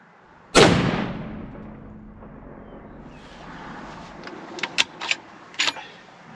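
A single loud factory Savage rifle shot cracks at an outdoor long-range shooting range, followed by a long fading rumble and a few faint clicks and rattles afterward.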